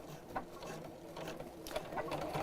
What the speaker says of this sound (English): we're going to sew straight across here